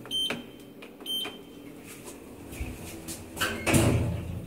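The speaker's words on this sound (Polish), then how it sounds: "takie drzwi to już się niedawno zamknęły" Schindler EuroLift elevator doors closing in a hotel in Mielno, Poland, with two short electronic beeps at the start followed by a soft sliding rumble and a muffled thud as the doors meet.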